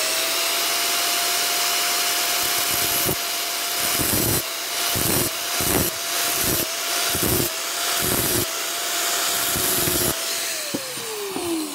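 A hand file works holes in knife blade steel, with a steady rasping stroke under a constant motor whine, then a run of rhythmic, evenly spaced strokes.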